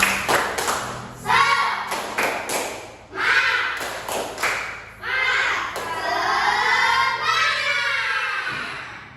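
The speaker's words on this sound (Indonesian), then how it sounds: "kita tepuk semangat dulu ya" A classroom of children does a rhythmic clapping chant, bursts of claps in patterned groups mixed with shouted voices, fairly close and loud, with pauses between phrases.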